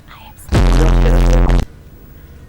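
A sudden loud blaring burst of harsh, distorted noise slams in and holds for about a second before cutting off abruptly, with quiet stretches on either side.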